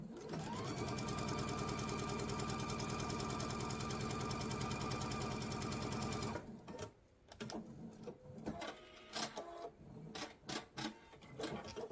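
A sewing machine stitching a scant quarter-inch seam runs steadily and loudly for about six seconds, then stops, followed by lighter clicks and handling of the fabric.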